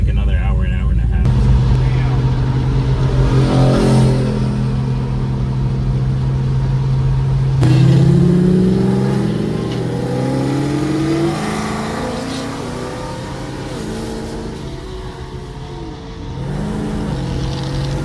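A supercharged car cruising a backroad, its engine droning and rising through gears in several revving pulls, with steady road and wind roar underneath and people talking over it.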